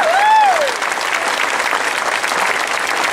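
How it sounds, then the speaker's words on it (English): Rally crowd at a marriage equality gathering in Taylor Square, Sydney, clapping steadily and loudly for a few seconds, with a whistle or cheer rising over the applause at the start. "Give yourselves a clap,"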